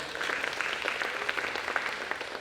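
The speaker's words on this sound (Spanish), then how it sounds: "Let's applaud." Church audience at a pastor's bilingual session applauding, a dense, steady patter of many hands at moderate loudness with scattered sharper claps and no speech over it.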